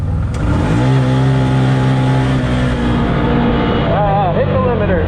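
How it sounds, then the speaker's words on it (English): A 2022 Can-Am side-by-side accelerates in low four-wheel drive, its engine droning loud and close with a steady rising note, while a voice talks over the last part. "we are going to put it in low 4-wheel drive and see how fast she will go 100 feet to the cone"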